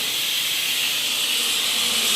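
A pressure cooker releases steam through its whistle while cooking rice, giving a loud, sharp, unbroken hiss that holds steady throughout.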